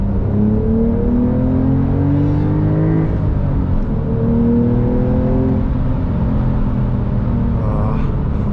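A Porsche 911 GTS accelerating on a winter drive, its engine rising in pitch through a couple of long pulls, heard from inside the car as a loud, continuous rumble and whir without talk.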